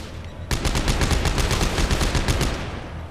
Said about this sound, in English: right here I'm straight up just shooting guys